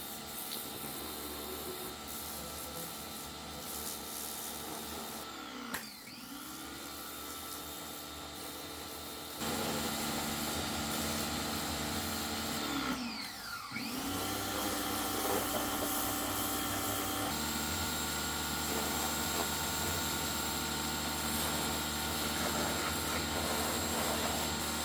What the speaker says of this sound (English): we got the pressure washer out.